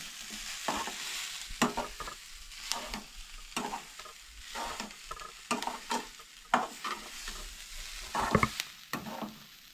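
A pan of stuffed brinjal masala for a spicy Goan curry is stirred while it fries, with repeated scraping strokes of a spoon cutting through a steady sizzle.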